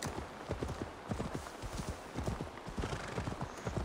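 A horse's hooves clip-clop rapidly in a steady gallop rhythm, close and continuous, in the game Assassin's Creed Valhalla.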